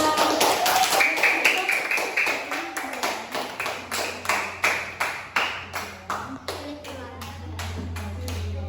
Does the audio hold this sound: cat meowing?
no